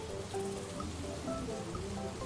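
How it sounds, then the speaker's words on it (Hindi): Rain falling around a street food stall selling pulao on a cold wet day, a steady close patter of drops with no voices. "बारिश हो रही है तो होने दीजिए।"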